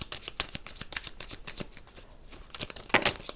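A deck of tarot cards is cut and riffled by hand, a quick run of close, crisp papery flicks and snaps with a brief pause before a final burst.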